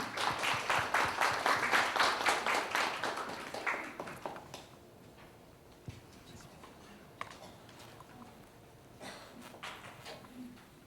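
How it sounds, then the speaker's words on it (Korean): An audience at a Korean press conference applauds, with dense, loud clapping for about four seconds before it thins out into a few scattered claps over quiet room noise. "박수 부탁드립니다"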